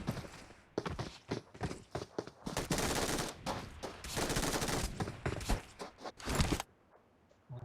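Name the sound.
gunfire in a shooting video game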